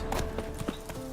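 Hooves of Geralt's horse Roach in The Witcher 3 clop in a quick, close, steady gait, with a faint tonal in-game ambience underneath and no talk.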